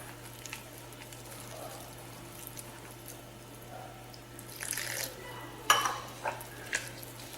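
Egg batter for snake gourd fritters (pudalangai bajji) is stirred in a bowl with a low steady hum beneath. Soft, faint mixing sounds lead to a few sharper utensil clinks near the end.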